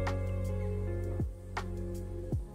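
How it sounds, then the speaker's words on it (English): A quiet, steady ACEPC AK1 mini PC cooling fan whirs under load with a constant tonal hum, broken by a few soft thumps at irregular intervals. "Under load, the fan sounds like this."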